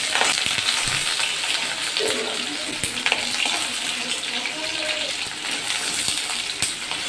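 Pointed gourd fries in a pan for home-style sukto, a dense continuous sizzle with occasional sharp clicks and stirring knocks, close and fairly loud.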